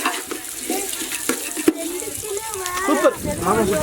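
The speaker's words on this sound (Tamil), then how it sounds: "வெட்டி வச்ச வெங்காயம் வெங்காயம் நல்லா பொன்னிறமாக வர்ற வர வதக்கிக்கிறலாம்" Onions sautéing in a pan until golden, with rooftop cooking of a whole-chicken biryani, a soft sizzle and scraping stir strokes beneath a person talking nearby.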